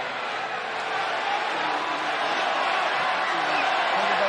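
Dense, steady roar of a sold-out wrestling crowd in Milwaukee jeering Roman Reigns, a broad sustained wash of voices with no single words standing out.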